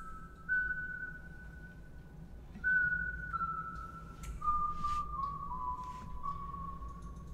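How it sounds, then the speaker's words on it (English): A high, clear whistled melody with gliding notes rises and falls over a quiet, low background of music from a song. "there's like a whistle, it's like a whistle in the song"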